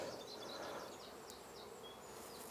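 A swarm of honey bees buzzes in a soft, continuous hum, with individual bees whining past close by over a faint, even background.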